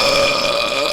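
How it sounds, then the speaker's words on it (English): A loud, close burp lasting about a second, with a steady droning tone throughout and no other sound. "Why did you have to burp when I was giving out my home address?"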